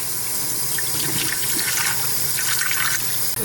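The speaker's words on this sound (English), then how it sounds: "I just rinse them off" Water splashing as shrimp are rinsed off a net over a goldfish aquarium, a steady close hiss of running, spattering water lasting a few seconds.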